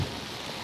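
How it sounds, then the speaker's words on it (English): Steady rain falling outdoors on a morning in Baguio, a soft, even hiss with no distinct drops, close and continuous for under a second. "and it's raining"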